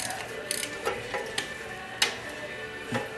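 A 1/2 inch socket ratchet works drain bolts loose on a 1976 Corvette, giving a few scattered sharp metallic clicks and ticks, close and fairly quiet, separated by short pauses.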